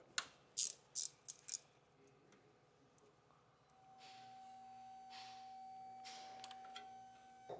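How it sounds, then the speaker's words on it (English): A 12 mm wrench works bolts off a 2015 Toyota 4Runner skid plate, giving five quick, sharp metallic ratchet clicks early on, followed by a quieter stretch with faint scraping and a soft hum. "We'll take a 12 millimeter wrench and get the bolts popped off."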